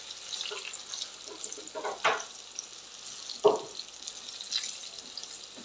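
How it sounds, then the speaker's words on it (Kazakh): Eggplant slices fry in hot oil, producing a soft, steady sizzle close by. A few louder bursts mark slices being dropped in or turned, and there is no talking. "Енді осы қызып тұрған майымызға осы баклажандарымызды салып аламыз."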